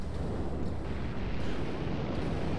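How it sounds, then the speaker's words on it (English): Spaceship weapons fire from wingmates in the space combat game Star Citizen, a dense continuous roar of rumbling blasts and bursts filling the short stretch without pause, loud and close with no talking. "you can hear the wingmates' weapons firing"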